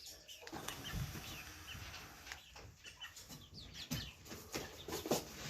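Backyard chickens cluck softly and intermittently in a coop area, faint and moderately distant among quiet outdoor background noise.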